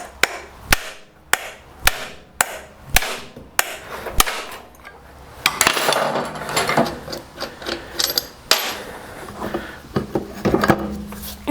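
Hammer blows on a pry bar work the flywheel off an old, blown-up Briggs & Stratton engine, a series of sharp, close metallic strikes at a steady rhythm, followed by scraping and clanking as the part shifts loose.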